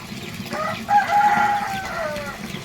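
Chickens clucking and calling nearby, with a drawn-out tonal call in the middle over a low background hum, no talking.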